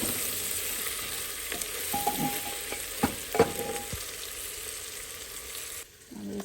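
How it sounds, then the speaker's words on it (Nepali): Meat sizzles steadily in a hot pan while a spoon stirs it, scraping and clinking a few times during the home cooking, with no talk. "अब यसलाई चाहिँ एकचोटि चलाऊँ अनि मसलाहरू हालौँ"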